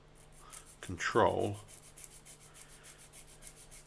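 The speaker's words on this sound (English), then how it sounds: "take the part and move it back and forth on the sanding stick" A small model aircraft part is rubbed back and forth on a sanding stick, a close raspy scraping burst of strokes lasting about half a second, with a soft voice and steady faint background ticking around it.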